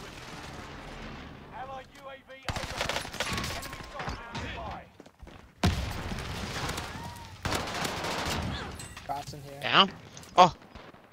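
Gunfire in Warzone, including a sniper rifle shot, comes as sharp sudden cracks and booms spread across the span, with a few loud bursts near the end. A player talks and exclaims between the shots.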